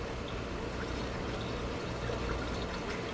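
Water pours steadily and splashes while a 1998 Jeep Cherokee XJ radiator and engine are flushed during a radiator replacement, a continuous close rushing sound without speech.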